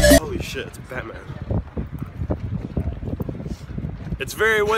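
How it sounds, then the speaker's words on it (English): Strong wind blows in Auckland city, rumbling across the microphone in loud buffeting gusts while people talk over it. "It's very windy."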